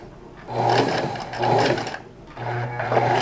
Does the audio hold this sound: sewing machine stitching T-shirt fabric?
yes